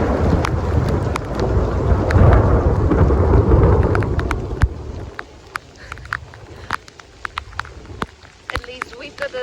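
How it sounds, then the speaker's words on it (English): Rain falls steadily during an outdoor trip as a thunderstorm rolls through, a dense low rumble and wash for the first half, then thinning to scattered sharp drops and pattering. "So it started to rain"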